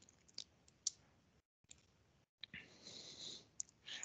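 A few sharp, quiet mouse clicks spaced apart over faint room noise, with a short silent gap midway, as software buttons are pressed.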